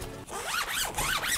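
A laptop bag's zipper is pulled open in several quick rasping strokes, close and clear, with no voices.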